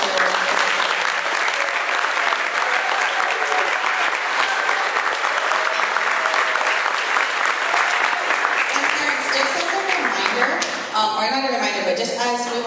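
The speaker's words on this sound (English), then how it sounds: "So will you give the students a round of applause for them?" Audience applause for music students after a performance of difficult music, a dense, steady clapping that fills the room for most of the stretch before thinning out near the end.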